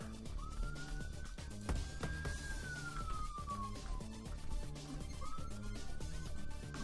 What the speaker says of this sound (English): Excuse the sirens in the background.